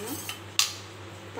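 A spoon clinks against a bowl while stirring a vanilla-flavoured mix into milk: two or three brief, quiet metallic taps, the sharpest one in the middle, over a faint low hum.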